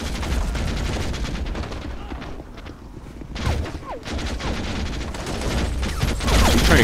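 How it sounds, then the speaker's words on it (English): Machine gun fire in the Call to Arms multiplayer game, a gun fired through a building at an enemy, heard as dense, continuous bursts of shots over loud battle noise throughout. "He's trying to shoot that machine gun right through the building to hit that terrorist"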